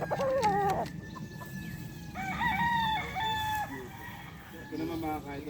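A five-month-old Sweater Boston gamefowl rooster at a game farm crows loudly and repeatedly close by, mixed with clucking from other fowl and a steady farmyard background.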